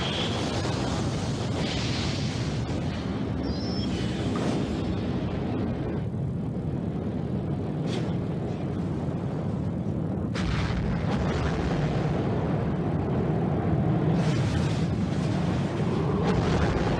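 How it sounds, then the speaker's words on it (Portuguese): A hydrogen bomb explosion comes as a long, deep, rolling rumble that swells and churns over many seconds, loud and continuous with surging waves of roar and no voices. "Este é o poder de uma bomba de hidrogênio"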